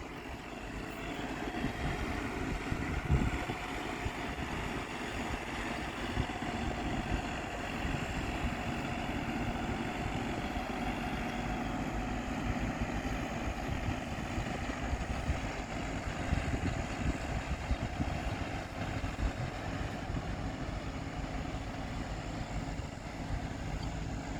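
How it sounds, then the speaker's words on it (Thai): A farm tractor engine runs on a road near a notorious curve in Wang Saphung, a steady low rumble holding throughout with no talk. "โอ้ มีรถไถด้วยครับ"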